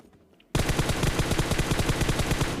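Automatic gunfire in the mobile game PUBG Mobile erupts suddenly into a rapid, sustained burst of loud, evenly spaced shots.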